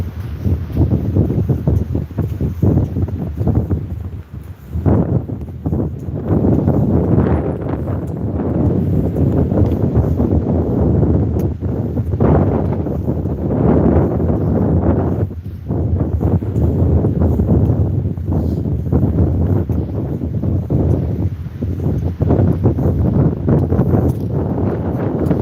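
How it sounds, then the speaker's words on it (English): Strong wind buffeting a microphone along a seaside cliff promenade, a continuous heavy roar with gusty low rumble that dips briefly now and then, no voices heard. "Still got the wind, but it's not quite as bad."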